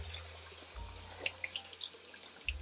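Vinegar soaking water draining from a bowl of produce, a faint trickle and scattered drips with soft splashes, close by and quiet, no one talking.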